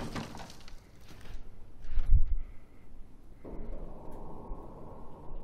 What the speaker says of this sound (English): Let's shoot these boxes from a distance.